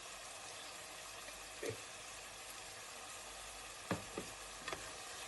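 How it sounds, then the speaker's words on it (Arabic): Minced meat with oil, salt and spices frying in a pan gives a faint, steady sizzle, broken by a few soft knocks and scrapes as it is stirred. "نحطوه في المقلة ونحركوه مليح"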